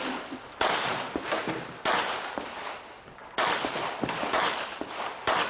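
Handgun shots ring out at an IDPA match at Mecklenburg Wildlife Club, several sharp, loud, close reports in uneven pairs and singles with echo and range noise between them, no talking.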